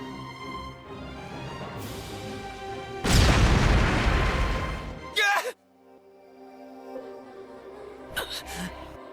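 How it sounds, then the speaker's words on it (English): Fire magic crystals detonate in the Re Zero video game during a bandit attack: a loud, sustained roaring blast that cuts off abruptly, followed by short sharp bursts and quieter game sounds, with voices nearby. "From here, I'll use these fire magic crystals."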